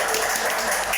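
Brief burst of applause from a talk-show audience at an immigration event, a dense, steady crackle of clapping filling the whole second with no pauses.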